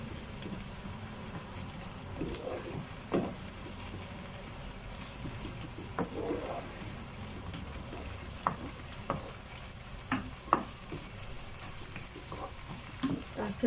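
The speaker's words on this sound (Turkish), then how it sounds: "Bunu da güzelce kavuruyorum şöyle." Onions and tomato paste fry in a pan under a continuous soft sizzle, a spoon scraping and tapping now and then, including one sharper clink, near and quiet with no talking.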